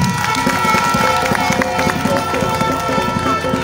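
A crowd claps in dense, rhythmic bursts at a closing campaign rally in Guehiebly. The cheering and clapping stay loud and continuous throughout, with voices mixed into the din.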